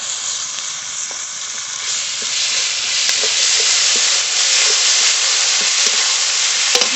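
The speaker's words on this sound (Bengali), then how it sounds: "পেঁয়াজটা একটু ভেজে নিয়েছি, বাটা মশলা দিয়ে দেব" Chopped onions fry in a pan with ground spice paste, giving a loud, steady sizzle and hiss, with faint stirring clicks now and then and no voices.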